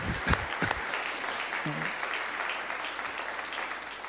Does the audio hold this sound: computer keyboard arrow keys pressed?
no